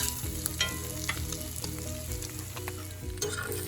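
Chicken pan sauce sizzles steadily in an iron skillet over medium heat, with close crackling fry and scraping stirs in the pan, no talk.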